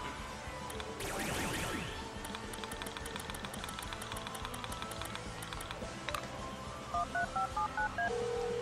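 Phone call dialing in the video game Lollipop Chainsaw: a sweeping electronic effect, then steady clicking, and finally a quick run of short beeping touch-tone keypad presses near the end, with no speech over it.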